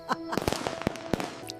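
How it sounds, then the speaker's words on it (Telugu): Diwali firecrackers burst in a quick run of sharp cracks, about half a dozen pops over under two seconds, moderately loud against a faint background. "దీపావళికి టపాసులు పేలాలి"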